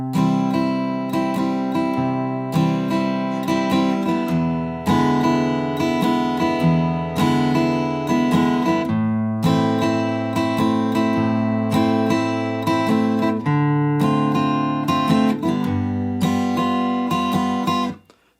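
Acoustic guitar plays the opening line of a song, with gently picked and strummed chords ringing in a steady repeating pattern, close and clear, with no voice.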